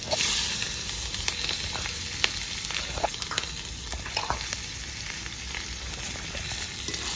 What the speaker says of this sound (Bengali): এই তেলে শুকনো লঙ্কা, গোটা জিরে দিয়েছি, আর দিয়ে দেবো কাটা পেঁয়াজ।